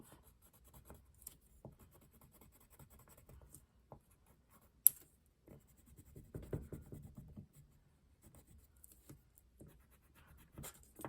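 A crayon is pressed hard against paper to draw a broken line, making quiet, close scratchy strokes that come in short bursts with a few sharp taps between them, with no talking.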